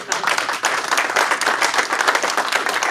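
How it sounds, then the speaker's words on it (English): Audience applause at a community conversation with West Virginia's governor in Elkins on Amendment 2, a dense, steady roar of many hands clapping that carries loudly for about three seconds with no talking. "y'all ought to clap"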